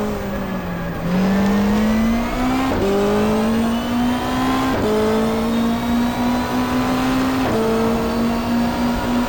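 A race car engine in the racing video game GTR2 shifting gears during a 1995 Australian Super Touring race at Symmons Plains: a steady whining engine note that climbs, drops sharply at each of several gear changes, then climbs again.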